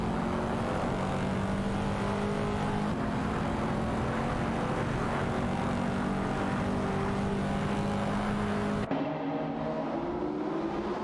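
Race cars in a virtual racing video game roar continuously with layered engine whines that rise and fall, loud and close, then cut abruptly to a thinner, quieter engine tone near the end.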